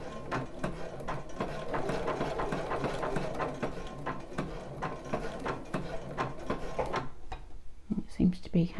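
Sewing machine stitching bra fabric in a quick, steady run of close mechanical stitches that stops near the end, with a voice talking over it.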